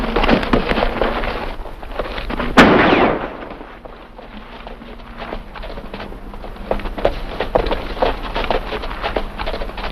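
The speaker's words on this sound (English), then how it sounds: "What's all this shooting for?" Gunshots in a 1950 Western, a sharp loud report near the start followed by scattered cracks and clatter, with rustling and movement sounds in an outdoor scene and no talk.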